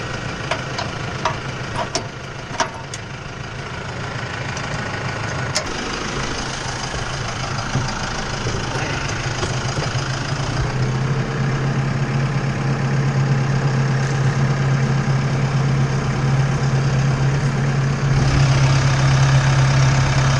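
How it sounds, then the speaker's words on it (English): A Farmall Super C tractor engine runs steadily, its low, continuous rumble and drone filling the whole stretch, close and loud, with a few sharp knocks early on and the pitch firming slightly partway through. "This here is a Farmall Super C, and despite its appearances, it's actually a pretty good running tractor."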